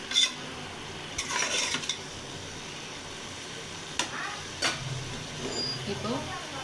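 A spoon stirs chicken biryani masala in a pot, with intermittent scraping and clinking against the metal and faint sizzling in the background.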